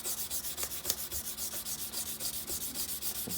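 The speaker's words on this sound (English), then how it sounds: "I'm going to finish it up with the 220 hand sand." Hand sanding of a wooden knife handle with 220-grit sandpaper, steady back-and-forth rubbing strokes in an even rhythm, close up and alone with no voices.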